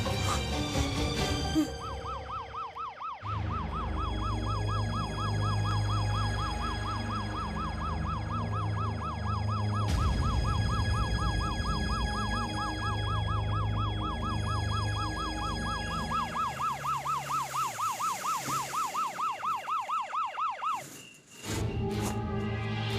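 An ambulance siren wails loudly and steadily in a rapid, regular up-and-down pattern for most of the stretch, with a low rumble beneath it, then shifts to a faster yelp near the end before breaking off.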